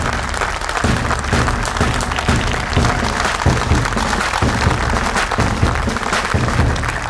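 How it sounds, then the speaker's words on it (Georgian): Continuous applause from an audience at a children's show, welcoming Fagio, a steady dense wash of clapping throughout with no talk over it. "ფაგიოს აპლოდისმენტები"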